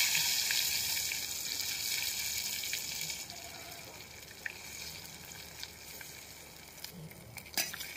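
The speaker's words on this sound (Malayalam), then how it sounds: "നമുക്ക് ഇതിലേക്ക് കറിവേപ്പില ഇട്ട്" Curry leaves crackle and sizzle in hot oil with mustard seeds, a dense steady frying hiss with scattered sharp pops near the end, close and unbroken.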